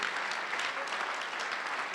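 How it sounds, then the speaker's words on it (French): Brief, even burst of audience clapping at an award ceremony honoring a craftsman, moderately quiet and uniform throughout, with no voices on top. "Félicitations Christophe Legendre. On vous applaudit"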